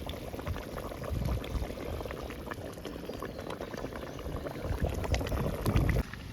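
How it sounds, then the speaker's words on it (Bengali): Thick fish curry gravy of jiol fish bubbling steadily in a pan, a continuous close, dense simmering burble with popping bubbles throughout. "ঝোল সুন্দর ফুটে গেছে"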